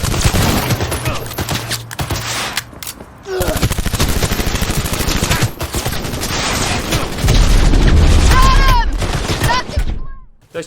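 Rapid bursts of gunfire in Cyberpunk 2077, dense and loud for most of the stretch, with a brief lull before the shooting resumes, followed by a louder passage near the end.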